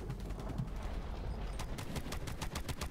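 Rapid automatic weapon fire from the video game Borderlands 3, a quick series of faint crackling shots with a denser burst in the second half, heard under game ambience.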